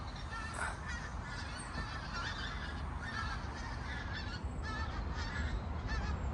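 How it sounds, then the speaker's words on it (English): A large flock of geese flying over a farmyard honks faintly and continuously from a distance, their calls overlapping above a steady outdoor rush of wind and background noise. "Huge flock of geese flying over the yard."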